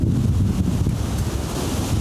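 Strong wind buffets the microphone on the Murray River in South Australia, a loud, continuous low roar with gusting rumble and a faint wash of water, with no speech.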